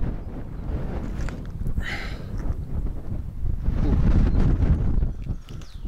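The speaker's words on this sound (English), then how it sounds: "Well, windy." Strong wind buffets the microphone in rough, rumbling gusts, rising toward the end, with faint rustling in the background.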